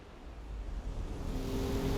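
Car exhaust in the Forza Horizon 5 racing game rumbling as the car slows down: a steady, low, throaty drone that holds at an even level for about two seconds, with no voices.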